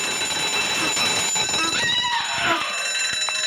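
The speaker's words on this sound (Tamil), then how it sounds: "ஒரு அலாரம் இருக்கு, அதை கட் பண்ண வந்துடுவாங்க நினைக்கிறேன்" A shrill electronic alarm rings steadily with high sustained tones, mixed with busy game sounds and a few clicks, in the game Endless Night.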